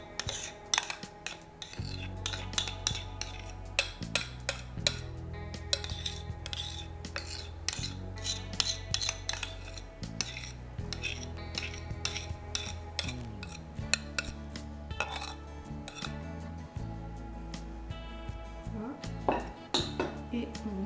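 Milk chocolate brownie batter with hazelnuts being mixed in a bowl: a utensil scrapes and clinks rhythmically against the sides in a quiet, continuous run of small knocks and rubs, with no talking.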